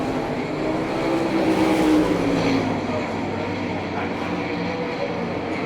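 Sprint race cars roar around the Hartford, Ohio speedway, a dense continuous engine drone swelling slightly as cars pass, heard at a distance with a commentator talking over it.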